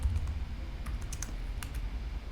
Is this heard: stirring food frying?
no